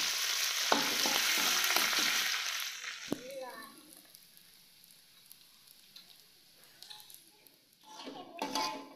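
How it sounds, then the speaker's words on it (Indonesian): Anchovies frying in a pan during home Indonesian cooking, a strong broadband sizzle at first that eases to a quieter crackle with stirring clatter and utensil knocks. "Terus kita goreng teri tadi"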